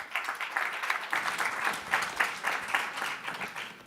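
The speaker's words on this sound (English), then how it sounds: "A big round of applause" Applause from a conference audience at an energy week event, moderately loud and steady with rhythmic swells of many hands clapping, heard from some distance in a large hall.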